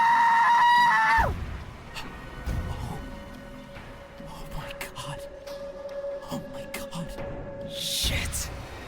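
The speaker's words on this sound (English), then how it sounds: "Fiora, Hope, and Ivanna scream" Several women scream together at high pitch, loud and up close, in an audio drama; the screams cut off abruptly, followed by scattered clatter and a quieter sustained tone.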